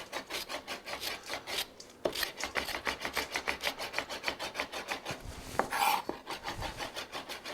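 A knife chops lemon zest on a board in quick, steady rhythmic strokes, soft and close, with a brief pause near the start and no talking.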